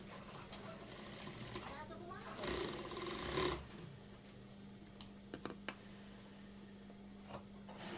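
A sewing machine stitches along the edge of a stiff fabric, its motor humming in short runs with a louder burst in the middle. Scattered clicks and handling knocks sit between the runs, and a voice talks over parts of it.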